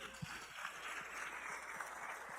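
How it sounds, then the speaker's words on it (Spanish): Church congregation applauding together at a Spanish-language service, a steady diffuse wash of clapping with a few sharper claps rising above it, moderate and continuous throughout. "Denle el aplauso fuerte al Señor."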